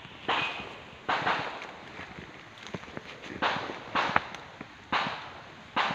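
Several sharp gunshots ring out at spaced intervals, each with a short echoing tail, heard from a moderate distance outdoors with faint ambient noise between.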